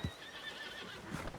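A horse whinnies loudly and close by in Red Dead Redemption, a short, shrill, wavering neigh over a low thud and light hoof clops.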